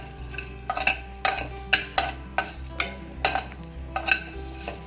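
Onions with cumin seeds being stirred in a pan, a metal spoon scraping and knocking about eight times in a steady rhythm over a low, soft sizzle, close and fairly loud with no voices.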